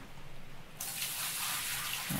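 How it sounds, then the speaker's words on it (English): Water pours into a sluice in a Gold Rush mining game, a steady gushing rush that starts abruptly after a brief quiet hum and continues alone at moderate loudness. "Keep pouring that water in."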